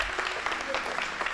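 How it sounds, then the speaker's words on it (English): Clapping from an audience at a school event for students, a brief, fairly quiet wash of hand claps with a few sharper hits standing out. "Let's clap."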